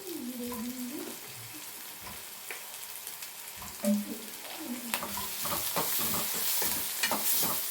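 Mudakathan keerai greens sautéing in a pan for dosa batter, a soft sizzle with scraping stirs, faint and close, with occasional clinks of the spatula against the pan.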